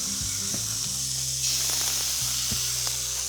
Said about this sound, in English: If you hear that sizzle, you know it's pretty hot.